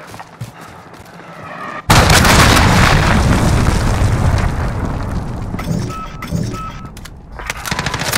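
Cruise missile strike in Call of Duty Modern Warfare, a sudden loud blast followed by a long rumbling roar that slowly fades, with scattered smaller pops near the end.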